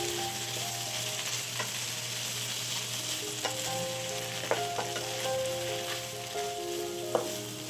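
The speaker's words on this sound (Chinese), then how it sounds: "最后再加入青葱段，将所有食材翻炒均匀" Pork belly stir-fried with scallions and rice wine in a wok for Sichuan twice-cooked pork, a steady close sizzle with scraping and clacking of the spatula against the pan, no voices.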